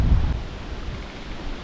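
Strong wind gusts buffet the microphone beside the Prut River, a steady low roar with rumbling bursts and no voices over the short stretch.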